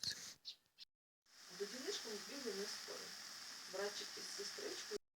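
Steady sizzle of pumpkin pancakes frying, with a broad hiss, and a voice talking softly over it for most of the clip.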